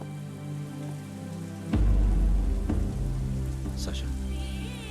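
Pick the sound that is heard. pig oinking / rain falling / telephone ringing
rain falling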